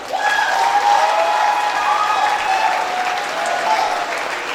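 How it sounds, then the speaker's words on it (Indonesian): An audience at a theatre performance applauds steadily and loudly, a continuous wash of clapping that holds for several seconds before easing slightly. "Boleh tepuk tangan sekali lagi."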